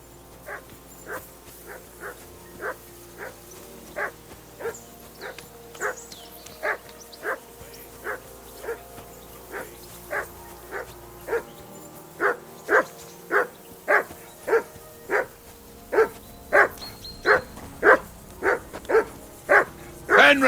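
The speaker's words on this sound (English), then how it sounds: "That barking was a pain in the ass." A dog barks in the Kingdom Come Deliverance 2 video game, a long, regular series of single woofs at an even pace over low background ambience, growing louder and closer toward the end.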